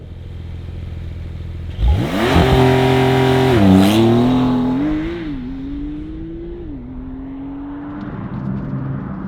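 A Porsche 992 Carrera 4 GTS pulls away on the road, its engine rising steadily in pitch through the gears with a shift around the midpoint, loud and close, then settling into a steadier cruising note.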